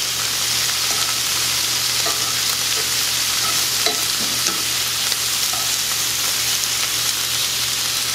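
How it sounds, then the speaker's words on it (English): Shrimp sizzle in a hot pan after being flipped, a loud, steady, close frying hiss with faint occasional scraping, and no talking. "Now I'm going to go ahead and turn my shrimp to the other side."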